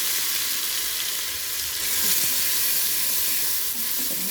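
Cumin paste and a dried red chilli frying in a pan, giving off a loud, dense, steady sizzle with a brief swell midway and no voices.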